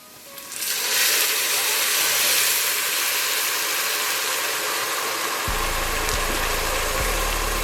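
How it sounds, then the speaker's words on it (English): Chardonnay poured into hot risotto rice for a creamy mushroom risotto, bursting into a loud, steady sizzle that swells within a second and holds, with a low hum entering late. "we're gonna take some Chardonnay and we're gonna drop that in"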